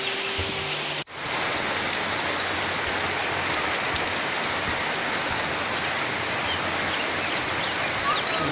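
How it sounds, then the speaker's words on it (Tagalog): Steady, heavy rain pours down in Cebu with a constant dense hiss, close by and unbroken after a brief dip at the start. "Pasok ng ulan dito sa Cebu."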